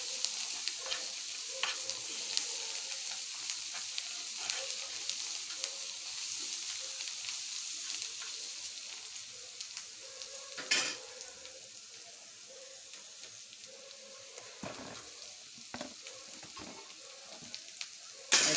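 Fish curry cooks in a pan with a steady, moderately quiet sizzle and frying hiss, punctuated by occasional scrapes and clinks of stirring, with no one talking.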